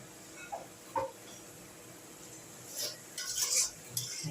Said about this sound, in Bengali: এরকমভাবে ভালো করে মিশিয়ে